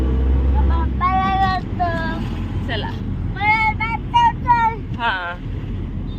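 An auto-rickshaw rattles along through traffic with a steady engine rumble and wind noise, while people talk over it.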